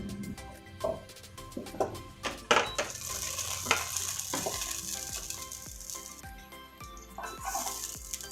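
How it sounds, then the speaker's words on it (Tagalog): Onion frying in olive oil for bistek Tagalog sizzles softly while a utensil clinks and scrapes against the pan in several sharp knocks. "Pa-fry muna natin ng half cook yung ating onion."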